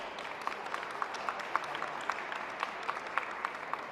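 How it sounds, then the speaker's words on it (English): An audience at a dog championship show applauds steadily, many hands clapping together in a continuous, moderately distant patter with no voices. "Round of applause for our finalists, please."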